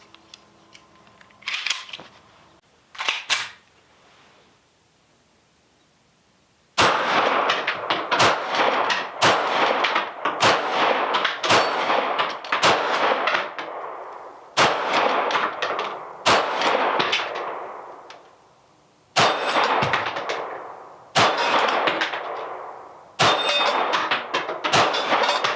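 Sharp, loud pistol shots from a Canik TP9SFx full-size race gun fired with open sights, in bursts of quick successive reports with short pauses between strings and a few isolated shots at the start.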